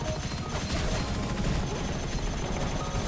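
Dense, continuous gunfire from the video game Gunfire Reborn, rapid shots blending into a steady loud clatter for about three seconds, with no clear pauses.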